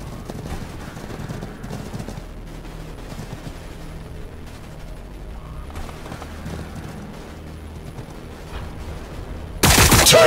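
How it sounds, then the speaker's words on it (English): Gunfire crackles through a battle in the video game Warhammer Battlesector, a steady rattle of scattered shots and mechanical clatter over rumbling ambience, ending in a sudden loud blast. "Taking fire!"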